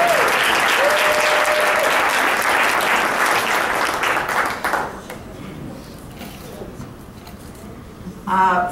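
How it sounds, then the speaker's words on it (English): Audience applause at an all-party education forum in Alberta for the president of ATA Local 38, loud and sustained for about five seconds before fading to a low murmur, with a voice starting to speak at the end. "You have some applause, please"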